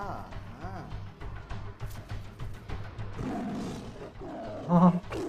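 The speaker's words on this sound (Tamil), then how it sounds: "புலி ஃபைட்டா?" A tiger roars in a film scene, its growls rising and falling and peaking in a loud burst near the end, mixed with people talking over the soundtrack.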